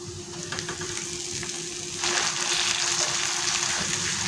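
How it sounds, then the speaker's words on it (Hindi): Onions fry in a pan toward golden, a dense steady sizzle close by that grows louder and brighter halfway through, with no talking. "बस हल्का सा इसमें गोल्डन कलर आ जाए इतना हमें फ्राई करना है"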